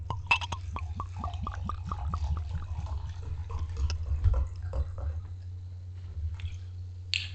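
Santa's Butt porter beer poured close by into a glass, a quick run of glugging bursts at a steady pulse for several seconds that thins into a few faint drips.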